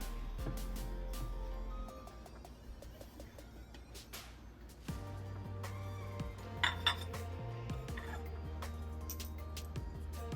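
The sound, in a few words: cutting a slice of coconut cake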